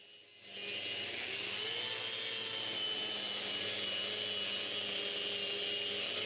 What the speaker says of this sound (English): I begin by sanding everything.